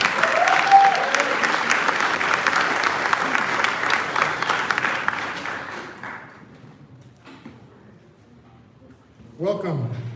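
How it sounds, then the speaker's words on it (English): Crowd applause for the president at a Charro Days Fiesta anniversary poster unveiling, loud sustained clapping with a voice over it that fades out midway, then near-silence before a brief sound near the end. "if we could have a nice round of applause, fuerte aplauso para nuestro presidente"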